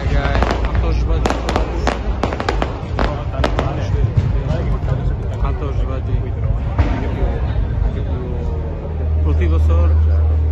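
Fireworks bursting over Prato della Valle during Ferragosto celebrations, loud repeated sharp cracks and booms in rapid irregular succession, with crowd noise and voices underneath and a low steady rumble building toward the end.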